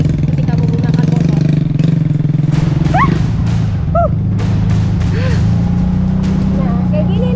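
A motorcycle ridden along a rough road holds a steady, close engine drone throughout, with a few brief chirping sounds rising over it.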